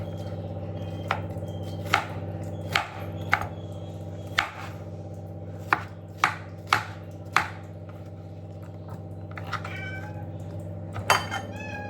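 Sharp, irregular knife chops on a cutting board as vegetables are cut, about a dozen distinct knocks spaced unevenly, over a steady low electrical hum.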